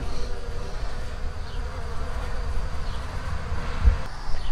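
Honey bees buzz steadily among cut wax cappings in a honey strainer, a constant close, low droning hum with a brief thump near the end.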